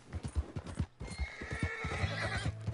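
Horse hooves clip-clop in Red Dead Redemption 2, a quick, even run of soft, faint hoofbeats with a short gap partway through and a brief whinny, with no talking.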